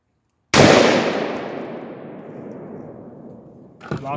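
A Palmetto AR-10 rifle fires a single 150-grain Freedom Munitions .308 round: one loud, sharp report that rolls into a long fading echo, followed by a faint mechanical clack near the end.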